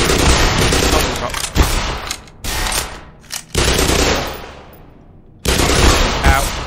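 Black Mesa marines in the video game fire shotguns in loud, booming blasts that come in several bursts with short gaps between them, and a voice talks faintly underneath.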